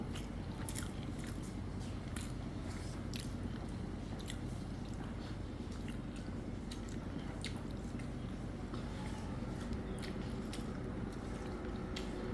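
Fish being eaten up close, with soft wet chewing and repeated small biting crunches running steadily throughout and no talking.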